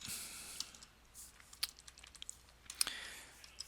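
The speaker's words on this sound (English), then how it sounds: "If I type in today's date" Keys tapped on a computer keyboard while entering a date into an Excel spreadsheet, faint scattered clicks at an irregular pace with a few sharper taps, in a quiet room.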